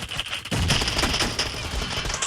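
Rapid bursts of gunfire in the battle-royale video game PUBG, loud and dense, with shots crackling in quick succession over a continuous busy background.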